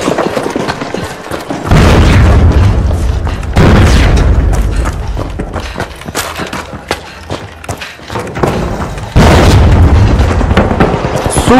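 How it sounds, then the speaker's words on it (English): A rocket explodes in the arena shooter THE FINALS with several loud, booming blasts, each cutting in sharply and then rumbling on amid dense in-game noise. "Sending a rocket."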